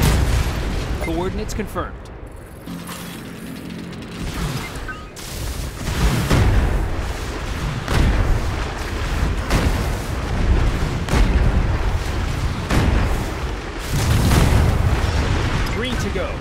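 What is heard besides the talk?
artillery fire and explosions in Anno 2205 video game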